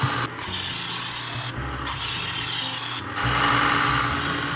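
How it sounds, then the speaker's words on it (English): Steel knife blade drawn repeatedly across a sharpening stone on guides, a steady gritty rasping that runs continuously with three brief breaks in the strokes, close and loud with no talking. "Take your time when you're sharpening knives."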